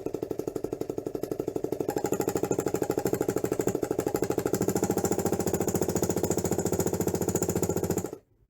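A GS-0810AC vibration-reduced industrial air riveting hammer hammers in a rapid, steady, loud pneumatic stutter for about eight seconds, then cuts off abruptly, with no voices.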